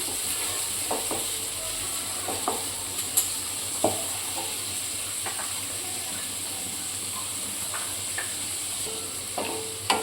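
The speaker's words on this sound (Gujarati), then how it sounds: "હવે આપણે કેપ્સિકમ નાખીશું થોડીક વાર આને સાતરવા દઈશું" Onion and capsicum sauté in a pan for upma under a constant hissing sizzle, with a spoon scraping and clicking against the pan at irregular intervals.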